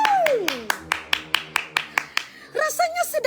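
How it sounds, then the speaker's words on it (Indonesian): Slow, separate hand claps from an audience welcoming a guest star, about a dozen sharp, evenly spaced claps, with a sliding vocal tone at the start and a voice speaking at the end. "tepuk tangan untuk bintang tamu kita ya"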